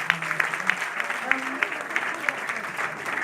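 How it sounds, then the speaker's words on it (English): Applause from a room of people, steady clapping that carries on throughout, with a voice speaking briefly underneath. "let's give him a round of applause"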